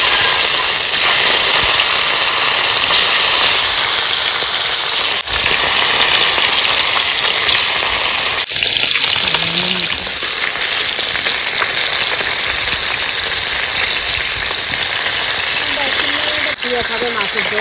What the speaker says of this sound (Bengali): মাছগুলো দিয়ে দেবো তেল গরম হয়ে গেছে মাছের